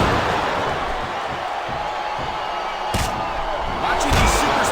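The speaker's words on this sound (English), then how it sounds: "It sounds like this capacity crowd has something on their minds, Taz." Capacity crowd in a wrestling arena from WWE SmackDown vs. Raw 2007, a continuous loud roar of massed voices with brief louder swells near the end, commentators talking over it.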